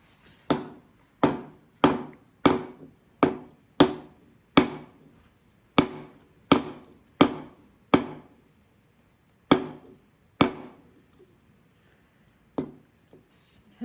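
A hammer dressing a millstone: sharp, ringing metal-on-stone strikes in a steady, slightly uneven rhythm, about sixteen blows with a few longer pauses, close and clear with no talk.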